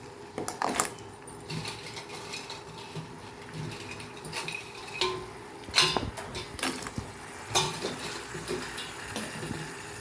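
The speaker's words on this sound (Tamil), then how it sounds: "இப்போது நம்ம க்ளீன் பண்ணி வாஷ் பண்ணி வச்ச நண்டெல்லாம் சேர்த்துக்கலாம்" Cleaned, washed crabs tip into a pan for a spicy crab masala, giving a steady low rattle with scattered sharper clacks of shell against metal, close and moderately loud.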